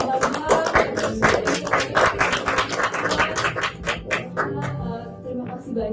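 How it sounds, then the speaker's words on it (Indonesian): Studio audience applauding a guest on an Indonesian talk show about road infrastructure, with scattered, uneven clapping that thins out toward the end and voices underneath. "Ini boleh dulu kita tepuk tangan dulu buat Pak Bambang."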